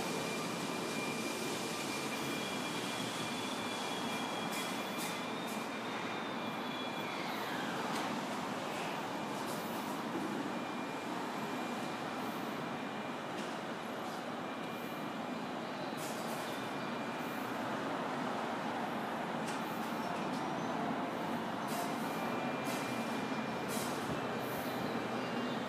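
Keihan 1000 series electric local train for Demachiyanagi at platform 1 of Kuzuha station, giving a steady, loud rumble of rolling stock and station ambience with faint brake hiss and tonal whine throughout.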